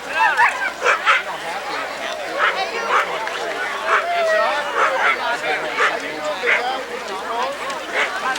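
Sled dogs bark and yip repeatedly in a noisy crowd at a 1993 Can-Am Crown sled dog race, steady excited barking over background chatter and hubbub.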